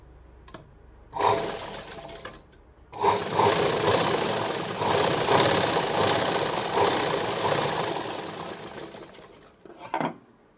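A sewing machine stitches a blouse seam, a brief burst, then a long steady run of rapid mechanical clatter before stopping, with a short final burst near the end.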